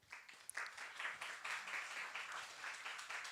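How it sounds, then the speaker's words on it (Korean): A crowd applauds steadily, many hands clapping together in a dense, continuous patter that holds at an even level throughout. "박수 쳐주시기 바랍니다"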